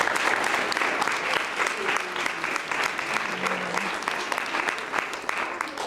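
A school audience at a primary nativity performance applauds the staff in a long, steady round of clapping, with a few voices and cheers rising faintly through it.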